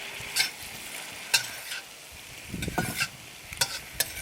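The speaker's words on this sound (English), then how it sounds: "Then I'm going to stir fry the garlic first. Then I put all the broccoli in it." Garlic and broccoli stir-fry in hot oil for a Chinese broccoli dish with garlic sauce. A soft sizzle runs underneath, broken by sharp scraping and clattering strokes of the spatula in an irregular rhythm.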